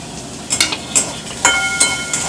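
Capsicum fries lightly in a pan for paneer pulao, a soft steady sizzle with a few sharp clinks and scrapes from a stirring spoon, close by and with no talk.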